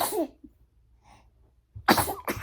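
A single sudden sneeze bursts out close by, preceded by a soft breathy sound and followed by a brief pause.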